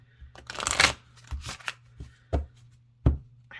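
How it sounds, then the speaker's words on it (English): Gilded-edge oracle cards are shuffled in several quick riffling bursts, separated by short pauses, close by and fairly soft. "really like shuffling these."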